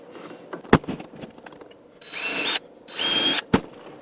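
Two short bursts from a power drill boring into a wooden mountain dulcimer case, each under a second, come between sharp knocks and handling clatter at close range.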